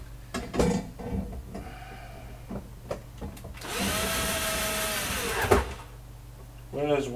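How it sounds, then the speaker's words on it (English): A power drill drives screws into a PC case during an upgrade, a steady whirring run of a couple of seconds, surrounded by short clicks, handling noises and someone talking nearby. "I'll get the drill ready so at least I can get one in"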